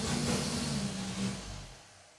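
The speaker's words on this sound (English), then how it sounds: "the guy across the street's going off in his tow truck" A tow truck across the street pulls away with a low, rumbling engine drone that stays loud briefly, then fades as it drives off.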